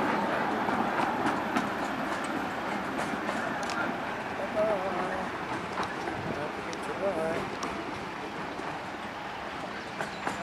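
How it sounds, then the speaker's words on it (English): A miniature railway train pulls out of Willow Lawn station at the Ruislip Lido Railway, a long train rolling with soft steady clatter at moderate distance while people talk nearby. "quite a long train, isn't it?"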